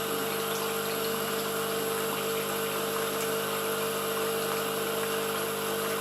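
Senseo coffee machine pumping water through during descaling, a steady loud mechanical hum with a constant tonal whine, unbroken throughout.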